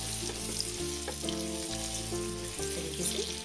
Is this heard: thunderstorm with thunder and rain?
no